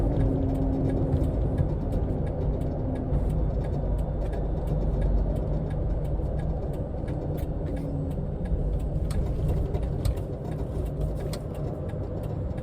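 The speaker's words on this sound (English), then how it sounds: "You can hear wires rustling under the dash, the air moving. It's a very quiet truck." Steady cab interior noise inside a Hino 195 electric truck: low road and tire rumble with air rush, soft rattles from under the dash, continuous and fairly quiet with no engine note.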